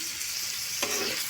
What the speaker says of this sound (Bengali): টমেটো তুলে নাড়াচাড়া করে নেব।